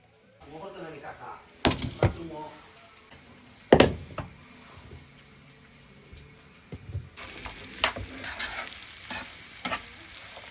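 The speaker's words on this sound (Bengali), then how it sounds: "এক এক করে এখন পাকোড়াগুলা ফ্রাই করে নেব" Pakoras deep frying in hot oil for an iftar party spread, a continuous bubbling sizzle with loud knocks and clatters of cookware, while a voice speaks nearby over the frying.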